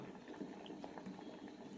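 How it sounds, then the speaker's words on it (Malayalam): Pumpkin pieces simmer in a covered pot of water, giving a soft, steady bubbling and faint patter that runs continuously at low volume with no talk. "തിളയ്ക്കാൻ തുടങ്ങിയിട്ടുണ്ട് അടച്ചു വെച്ച് വേവിക്കാം"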